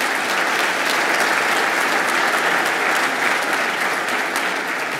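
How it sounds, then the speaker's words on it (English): Sustained applause from an audience for John Reinhardt, honoured for port leadership at a live State of the City 2019 event in Portsmouth, Virginia; dense, even clapping fills the whole stretch with no voices. "Please give John another round of applause."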